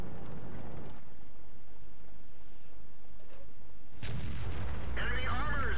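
A tank cannon in a tank video game fires a HESH round: a single loud, close boom breaks a quiet stretch, followed by a rumbling tail and a higher whine.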